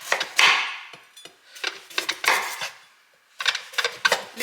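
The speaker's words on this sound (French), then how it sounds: "on vient retourner ces potimarrons et les couper en tranches" A knife slices through potimarron squash onto a wooden board in a series of crisp, close cuts, each a sharp woody tap with a brief rasp, spaced in small clusters with short pauses between.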